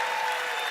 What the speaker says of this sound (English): A round of applause for Meredith